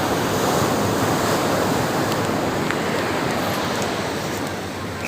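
Large ocean waves surge and break on a beach in Lampung, a broad, steady roar of surf with wind noise, loud and continuous for the whole stretch with no voices.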